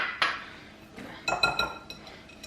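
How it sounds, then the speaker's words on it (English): A whisk knocks a few times against a mixing bowl to shake off a butter and sugar mixture, giving one sharp clink followed by a quick cluster of lighter metallic taps, close and alone. "Tap the sugar butter mixture off of the whisk"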